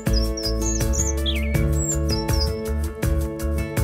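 A chirping bird sound effect: quick tweets and a trilling whistle ring out over a loud, bouncy children's dance track with a steady beat.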